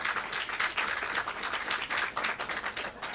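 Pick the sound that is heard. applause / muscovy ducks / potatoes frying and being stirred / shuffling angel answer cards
applause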